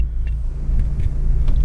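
A car engine idles steadily as heard from inside the cabin, a loud, constant low rumble with a few faint clicks and knocks over it and no voices.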